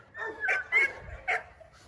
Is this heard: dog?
yes